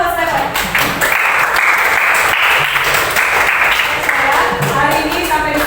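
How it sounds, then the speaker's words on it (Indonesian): Classroom applause for a student, a loud dense burst of clapping that carries on steadily with voices and some chatter mixed in among the claps. "tepuk tangan buat Stephen."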